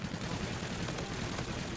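Rapid gunfire from the video game Call of Duty Infinite Warfare, played on PS4 in the Precinct map, a dense, continuous burst of shots lasting under two seconds with no pauses.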